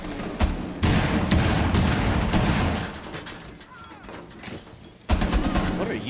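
Grenade launcher fire and explosions in a Rainbow Six match: heavy thumping blasts and rapid gunfire arrive in loud bursts, drop to quieter rumbling in the middle, then return sharply near the end.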